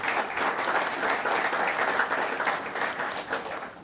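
An audience applauds at a supplier diversity conference, a steady wash of clapping that holds fairly loud and even for about four seconds before tapering slightly at the end.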